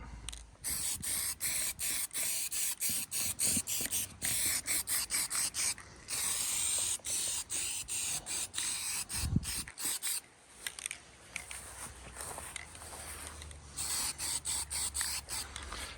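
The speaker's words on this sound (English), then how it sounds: "when I spray the next layer of paint over the top, it'll bond to the primer" Close spray-can bursts of etch primer hiss in rapid, repeated pulses, broken by a brief pause and a soft thump before the spraying resumes.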